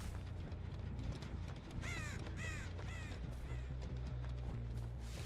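Crows caw in the Dead by Daylight video game, a burst of three or four harsh, descending caws in quick succession over a low rumbling game ambience, followed by a couple of fainter calls.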